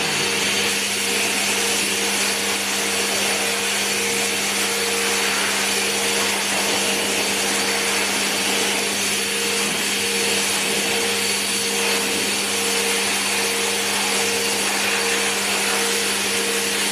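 A pet shop blow dryer runs loud and steady on a frightened cat during a grooming session, a continuous whooshing roar with a constant motor hum that never pauses.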